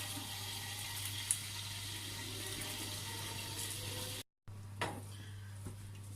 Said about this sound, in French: j'éteins, je les fais égoutter et je les mets dans un saladier